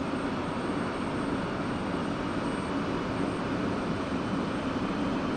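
An aircraft engine coming to life in a flight simulation game, a steady, dense droning roar that holds even and unbroken throughout, with no speech.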